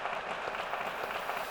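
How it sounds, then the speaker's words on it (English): Faint, distant applause from an audience at a breakfast panel event, a soft continuous wash of many hands with no single claps standing out and no speech on top. "Give a fantastic round of applause to the panel."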